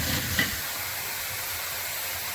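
Bottle gourd drops into a hot pan for shrimp curry, a close, soft sizzle and hiss that flares briefly at the start and then settles into a steady, quiet frying.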